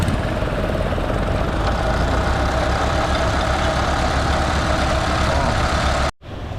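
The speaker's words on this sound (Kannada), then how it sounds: "ನೋಡಿ ಅಲ್ಲಿ ಆ ಬೋಟ್ ಕಾಣಿಸ್ತಿದೆಯಲ್ಲ, ಅದು ಬರ್ತಿದೆಯಲ್ಲ, ಅದನ್ನ ಇವಾಗ ಈ ಟ್ಯಾಕ್ಟ್ರಿ ಎಳೆಯುತ್ತೆ" A tractor engine runs steadily at close range as it hauls a fishing boat ashore on a Pondicherry beach, a continuous low rumble that cuts off abruptly near the end.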